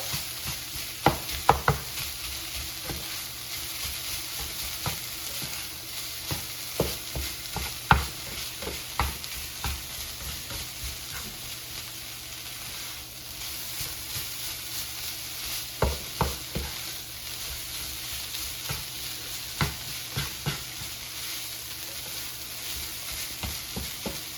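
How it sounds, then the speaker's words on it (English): Ground turkey seasoned with chili powder is stirred in a hot pan for fajitas, a steady sizzle broken by frequent irregular scraping and clacking of a utensil against the pan, close and fairly loud, without speech. "So I'm gonna add some more chili powder and mix it together."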